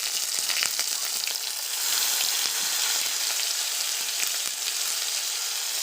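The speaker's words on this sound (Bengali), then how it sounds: "এভাবে ভেজে নেব সবগুলো" Ash gourd leaves stuffed with filling fry in oil in a wok, giving a close, steady sizzle with sharper spitting crackles scattered throughout and no one speaking.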